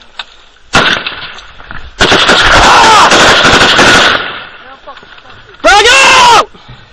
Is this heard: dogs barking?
no